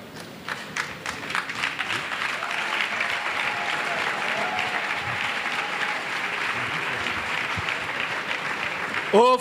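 Sustained applause from a large church congregation fills the room while a voice speaks over the clapping.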